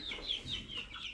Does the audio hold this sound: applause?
no